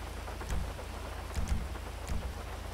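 Rain pours steadily in a video game while low thunder rumbles in three short rolls, the last fading as the downpour continues without talk.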